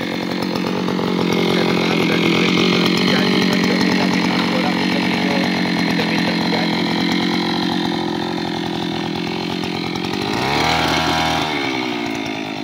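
A paddy cutting machine harvesting rice runs with a loud, continuous buzzing engine drone up close, dipping and roughening briefly near the end.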